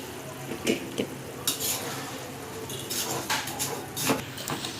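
A spoon stirs jaggery melting in a little water in a pot, giving soft scraping and clinking strokes at an uneven pace, close and fairly quiet, with no voices.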